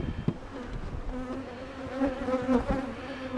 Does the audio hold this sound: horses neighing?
no